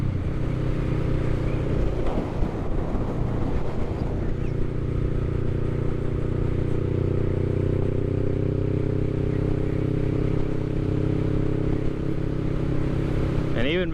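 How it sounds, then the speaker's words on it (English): A 2023 Honda Rebel 500 cruiser motorcycle runs with a steady, throaty exhaust rumble for about fourteen seconds, holding an even low drone with a slight rise in pitch toward the end. "the bike doesn't sound bad at all. The exhaust really adds a throatiness to it"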